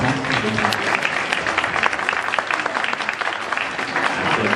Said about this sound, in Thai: ก็ขอเสียงปรบมือให้พี่ป้อมด้วยนะครับ